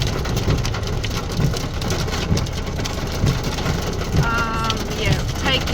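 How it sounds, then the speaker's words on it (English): Heavy rain pouring down on a car during a road trip, a dense steady hiss and patter throughout, with an engine idling underneath. "Pouring rain."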